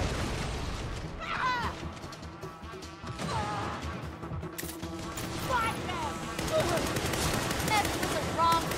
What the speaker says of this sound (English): Snipers are pinning us down.